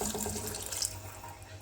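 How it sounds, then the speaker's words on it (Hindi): Water pouring into a pressure cooker holding onions and garlic, a continuous close splashing stream at steady level with no talk. "तो अब इसमें पानी डालूंगी, इतना पानी डालूंगी"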